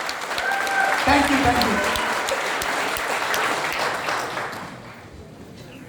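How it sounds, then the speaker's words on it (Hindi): Loud audience applause in a packed seminar hall fills the space and fades toward the end, while someone speaks briefly over it. "जोरदार तालियां अभी भी नहीं हुई है, और जोरदार"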